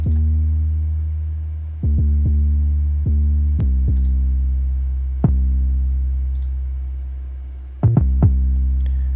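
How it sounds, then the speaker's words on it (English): Deep sustained 808 bass notes with punchy kick drum hits landing irregularly, loud and close, a repeating pattern with no voices. "Alright, now I'm going to add the kick to it."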